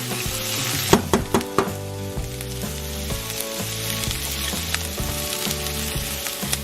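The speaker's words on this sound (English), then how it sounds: "just saute for a few minutes" Chili peppers, seeds included, sauté in a hot pan for a Filipino banana blossom dish: a steady close sizzle with a few sharp stirring knocks near the start, all under continuous background music.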